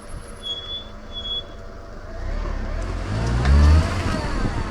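Car making a turn during a CV joint test, with engine and road noise rising into a louder low rumble and faint knocking toward the end, heard alone without talk.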